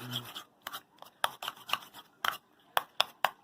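A spoon works brown sugar into a mustard meatloaf glaze in a bowl, giving a series of short, close scraping and tapping strokes in an uneven rhythm, fairly quiet with no talk.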